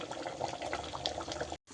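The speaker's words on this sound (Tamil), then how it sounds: "இப்போ நிறையா தண்ணி ஊற்றிட்டு" Water poured into a boiling pot of chicken curry, a short close splashing and bubbling pour that cuts off abruptly near the end.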